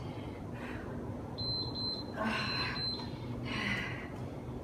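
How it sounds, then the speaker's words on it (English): Electronic workout timer during a home exercise session gives a few short, bright beeps in a quick cluster, faint against room noise. "When the beep goes off, we're going to get into a plie squat position"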